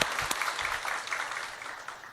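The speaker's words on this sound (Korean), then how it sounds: "우리 하나님께 감사의 박수를 드리겠습니다." Brief burst of applause from a church congregation during a worship service, steady and dense for about two seconds before tapering slightly.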